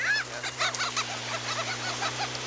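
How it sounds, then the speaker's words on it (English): Seagulls calling while they crowd a family for food, a rapid series of short squawking cries, fairly close and steady, over a faint low hum. "These are seagulls, right?"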